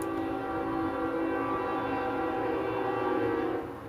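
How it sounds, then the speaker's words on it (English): Distant train near a waterhole producing a long, steady droning horn-like tone that holds for several seconds and fades at the end, faint and far off. "you can hear a train back there."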